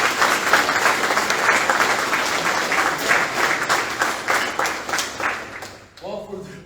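A round of applause for a Major Colonel at a Navy relief and appointment ceremony, loud sustained clapping that tapers off, followed by a voice starting to speak at the end.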